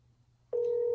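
A single telephone dial tone comes on abruptly after a brief quiet moment and holds steady and clear to the end, close and loud, with no talk.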